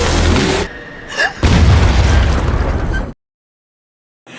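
A loud, booming cannon blast with a long roaring rumble that cuts off abruptly into silence.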